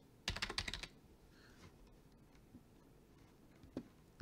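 Quick burst of keystrokes on a computer keyboard, a rapid cluster of close clicks followed by quieter scattered taps and one lone key press near the end, faint and close.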